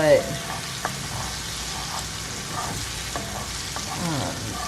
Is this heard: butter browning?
yes